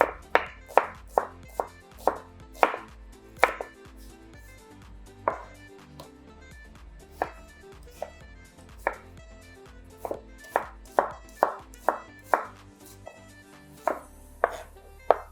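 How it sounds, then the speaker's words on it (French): An onion being chopped with a knife on a cutting board, crisp sharp knocks in quick irregular bursts with short pauses between runs, close and clear with no talking. "On prend l'oignon. On la va couper aussi ça,"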